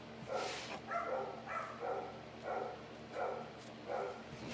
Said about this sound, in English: Oh, they've been barking at everything all day,